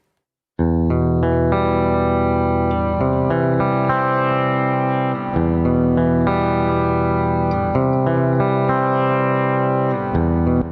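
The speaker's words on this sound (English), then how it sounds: "So we've got a nice reverb here as well too." Electric guitar played through a Nembrini Jazz Chorus amp app with reverb and subtle distortion, sustained chords ringing with a soft reverberant tail, steady and fairly loud with no talking.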